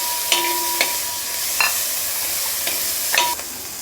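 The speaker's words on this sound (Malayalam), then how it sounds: "ഇതിലേക്ക് ജിഞ്ചർ ഗാർലിക് പേസ്റ്റ് ഇട്ട് കൊടുക്കാം. ഇതും നന്നായിട്ട് മിക്സ് ചെയ്തെടുക്കുക." A spoon stirs ginger garlic paste into coconut frying in a pan for Kerala-style duck roast, with a soft sizzle underneath and several distinct scraping strokes spaced out over a few seconds, no voices.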